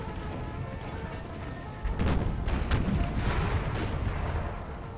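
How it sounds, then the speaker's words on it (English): Howitzer artillery fire in the video game Empire: Total War, a sustained rumbling boom with scattered distant shots over a dense battlefield din, swelling louder partway through. "Let's actually get that closer howitzer to turn around to fire."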